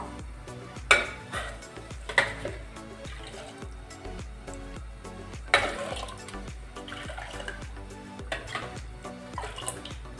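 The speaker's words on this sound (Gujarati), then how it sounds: "હવે આ ગરમ પાણીમાં આપણે ખીચડીને મિક્સ કરી દઈશું" Washed khichdi rice is tipped into hot water in a pressure cooker, making a few sharp splashes with metallic clinks, followed by lighter sloshing and stirring up close.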